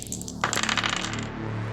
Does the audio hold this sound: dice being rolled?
yes